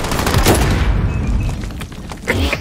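A shotgun blasts in a video game, a loud booming report with a rumbling tail around the half-second mark, followed by another sharp shot near the end over dense, noisy gameplay sound.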